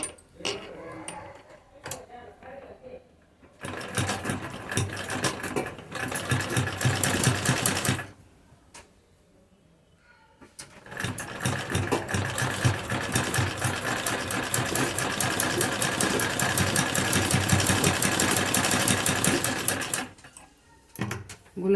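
A sewing machine stitches lace onto the back neck of a kurti, running in two long steady bursts of rapid mechanical whirring with a short pause between and brief quiet handling at the start and end.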